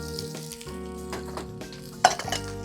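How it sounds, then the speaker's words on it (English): One and a half onions sizzle in hot vegetable oil in a pan, a steady close frying hiss with a brief clatter of a utensil stirring near the end, set against a faint musical background. "You wanna hear that sizzle?"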